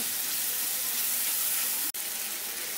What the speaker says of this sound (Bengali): মশলাটা কষাচ্ছি আমি